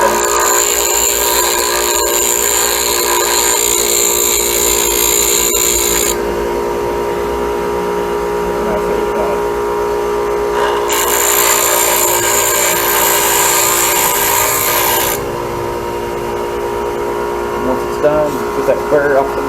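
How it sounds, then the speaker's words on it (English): A Power House 8-inch, half-horsepower bench grinder sharpens chisel tips, with a loud continuous motor hum and bright grinding hiss that swells and drops in two sections as the steel is pressed to the wheel. "I was grinding the tips on these, plus my other chisels over there"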